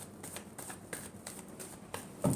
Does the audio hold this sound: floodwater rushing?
no